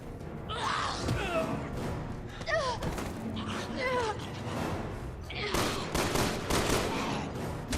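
Rapid bursts of gunfire and thuds in Resident Evil 6 crackle through a busy game scene, mixed with shouted voices and screams.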